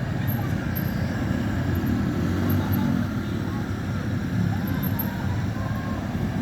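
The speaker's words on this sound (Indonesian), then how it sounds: "Ada bus Adibus MB116." An Adibus MB116 bus sits at Jatijajar bus terminal in Depok, its engine giving a steady low rumble that stays close and even, with a faint airy background wash over the whole stretch.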